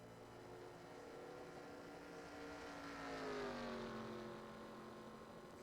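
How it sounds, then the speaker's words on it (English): A race car engine in a Papyrus NASCAR-style sim race, part of the NNSCRA T-Mobile Cup series, drones faintly and steadily in the distance, its pitch rising and falling as the car struggles through the final laps. "You can hear that car near sputtering."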